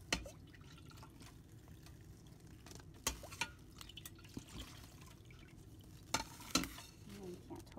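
Melted wax poured for an encaustic collage, giving a soft, low liquid trickle with faint sizzling texture and a few sharper clinks and taps near the end, fairly quiet and with no talking.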